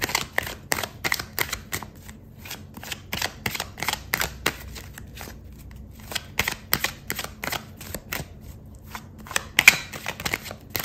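Tarot cards riffled and drawn during a love reading, giving a long run of quick crisp flicks and soft card snaps, close and fairly quiet, with no talking over them.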